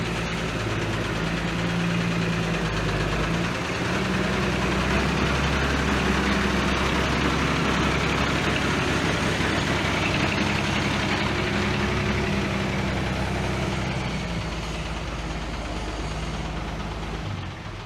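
An old mobile crane's engine idles steadily, a dense, continuous, rumbling drone at a constant level for the whole stretch, heard outdoors with no voices.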